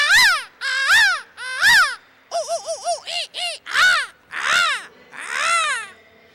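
A man imitates a crow's caw with his voice, a string of about ten loud, close, nasal caws in irregular bursts, some quick doubled calls.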